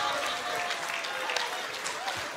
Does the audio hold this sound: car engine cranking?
no